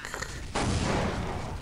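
Counter-Strike 1.6 gunfire on the Dust2 map: a loud, dense burst of automatic weapon fire that cuts in abruptly and sustains as a continuous roar of rapid shots.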